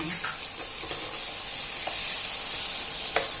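Ginger and garlic fry on low heat in a pan for glass-noodle baked shrimp, giving a steady, close hiss with a few soft stirring scrapes and no talk.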